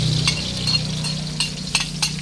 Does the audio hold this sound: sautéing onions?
yes